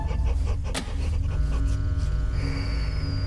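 A dog pants steadily and rhythmically up close, loud and continuous with no talk over it, apparently inside a house in a video game.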